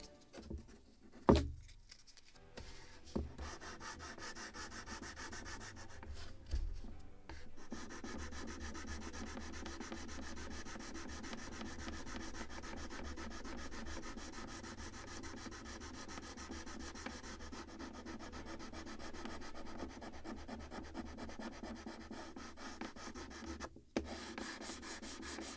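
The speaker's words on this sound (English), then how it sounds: "Now a little of 240 sandpaper." Steady, continuous rubbing of 240-grit sandpaper across wood on a model of the 1776 gunboat Philadelphia, close and fairly quiet, with a few louder knocks near the start and one toward the end.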